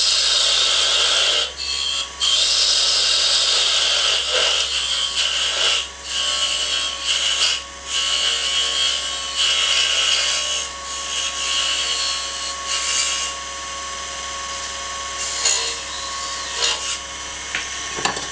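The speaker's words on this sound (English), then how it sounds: "we'll do that with a bit of sandpaper" Sandpaper held against a thin wooden neck spinning on a lathe, turning a lid base: a continuous loud rasping, rubbing hiss over the hum of the lathe, broken by brief dips as the paper lifts off, with no talk.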